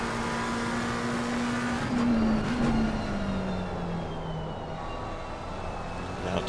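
Race car engine at Spa in a racing video game, a steady loud drone with a held pitch that dips and falls as the car lifts through a corner, continuous and close.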